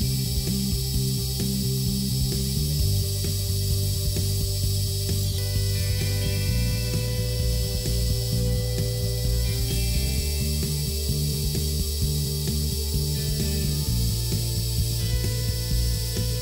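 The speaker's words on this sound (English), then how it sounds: "I started by turning the round features of the pins on the lathe" A metal lathe turns round features on small aluminum pins, giving a steady, loud mechanical hum with layered tonal whine that shifts in pitch a few times as the cut changes, running continuously without talk.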